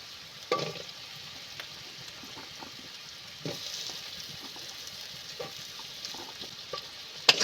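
Potatoes frying in oil-separated spiced masala while being stirred, giving a steady close sizzle broken by several scraping stirs and a sharp clink near the end, with no voices.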